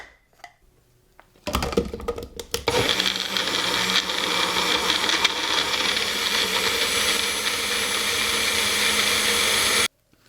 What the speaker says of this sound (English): All we need to do is blend.